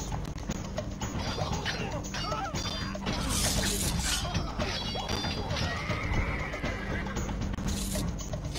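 Horses in the medieval strategy game Stronghold Crusader whinny and neigh repeatedly over a busy, dense battlefield bed of hoof clatter and clashing, with loud bursts in the middle and near the end.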